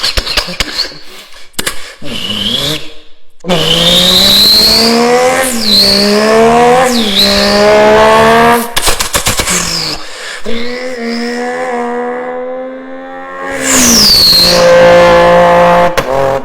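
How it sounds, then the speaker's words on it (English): A German six-cylinder car engine revs hard in repeated loud bursts, rising and dropping in pitch with brief gaps between pulls, close and alone without voices. "German 6-cylinder."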